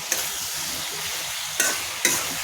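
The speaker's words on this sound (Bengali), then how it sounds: "ভালোভাবে একটু নাড়াচাড়া করে নিই" Liver with ground cumin and garam masala paste frying in a pan, a constant loud sizzle broken by three sharp scraping strokes of a spoon stirring.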